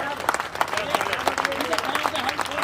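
Applause at a Jat community talent award ceremony in Jodhpur, brisk, continuous clapping from the crowd, mixed with voices talking.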